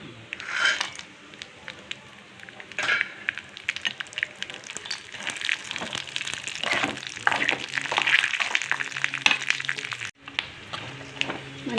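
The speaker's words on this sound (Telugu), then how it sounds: "మంచిగా ఎర్రగా వేయించుకోవాలి పలుకులన్నీ." Nut pieces frying in a pan for talikala payasam, a dense steady sizzle and crackle throughout with occasional stirring scrapes, loud and close, a brief dip near the end.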